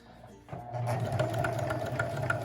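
A sewing machine starts and runs steadily, stitching a dress bodice seam with a fast, even mechanical whir and rhythmic needle ticking, close and moderately quiet.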